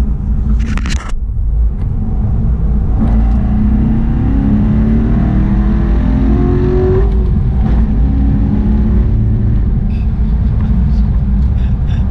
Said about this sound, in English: Go ahead and drop it in third and punch it.